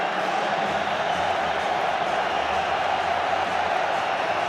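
Roma supporters roar at a football stadium during a Europa League final, a dense, steady wall of crowd noise that holds constant throughout with no letup.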